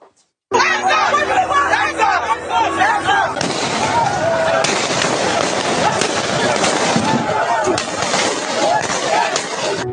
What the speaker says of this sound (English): Sounds of gunfire have exploded on the streets in Nigeria's commercial capital, Lagos